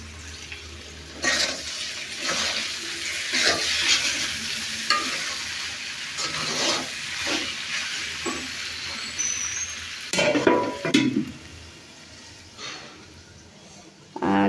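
A vegetable fry in a home kitchen sizzles steadily in the pan while a spatula stirs and scrapes it, with brief running water, a few louder clatters near the end, and no talking.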